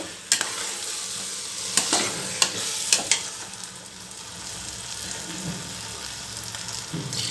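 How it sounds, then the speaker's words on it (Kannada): Rice frying in oil while being stirred for a soy and chickpea pulao: a steady close sizzle with several sharp scraping clanks of a spatula against the pan early on, then continuous quieter frying. "ಅಕ್ಕಿ ಹಾಕಿದ ಮೇಲೆ ಚೆನ್ನಾಗಿ ಎಣ್ಣೆಯಲ್ಲಿ ಸ್ವಲ್ಪ ಫ್ರೈ ಮಾಡಬೇಕು"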